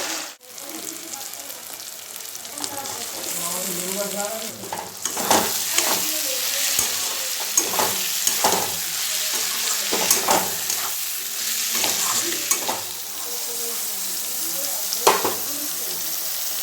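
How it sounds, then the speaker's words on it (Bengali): Snails (googli) fry in a pan with potatoes and a paste of ginger, chilli and turmeric. A steady sizzle runs throughout, broken by repeated scraping stir strokes and clacks of a spatula against the pan. "ওর মধ্যে গুগলিটা একটুখানি কষিয়ে নিয়ে"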